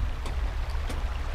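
Running water in a video game, a faint, continuous trickling wash with a low rumble underneath and a couple of soft splashy ticks, no voices.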